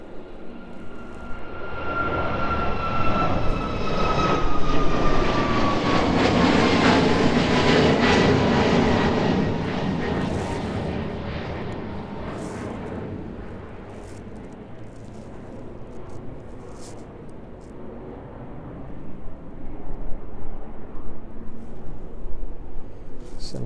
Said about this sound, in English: The Ryanair service to Malaga, just departing out there.